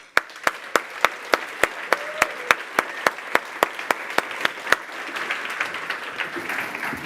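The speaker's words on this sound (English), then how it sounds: "giving the loudest round of applause you possibly can for Don Syme" At a London tech conference, a single pair of hands claps in a steady, evenly spaced rhythm near the microphone. Wider audience applause then swells in the background.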